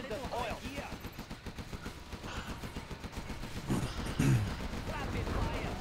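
Rapid bursts of gunfire from a real-time strategy video game crackle in a steady, fast rhythm throughout, with a couple of heavier impacts near the end, all mixed into busy game sound.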